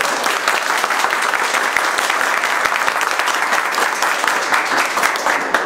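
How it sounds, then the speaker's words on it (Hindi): Class participants at a live multimeter electronics lesson clap loudly all at once, a dense, even wall of applause that holds steady from start to finish, close and with no speech. "जोरदार ताली बजा दीजिए"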